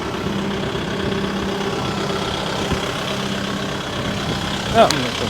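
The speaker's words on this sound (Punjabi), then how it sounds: "ਫੁੱਲ ਰੇਸ ਆ ਟਰੈਕਟਰ ਦਾ ਸਾਊਂਡ ਵੀ ਤੁਹਾਨੂੰ ਪਤਾ ਲਈ" A Kubota 5502 4x4 tractor engine running at full revs gives a steady, close droning hum with even tonal harmonics and a brief knock near the end, while someone talks over it.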